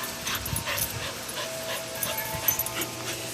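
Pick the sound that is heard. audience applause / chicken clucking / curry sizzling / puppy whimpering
puppy whimpering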